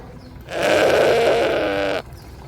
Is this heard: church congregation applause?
no